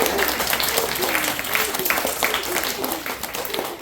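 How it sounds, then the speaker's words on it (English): Audience clapping after a children's rap performance, a steady crackle of many hands heard alongside a talking voice. "You're supposed to be clapping right now."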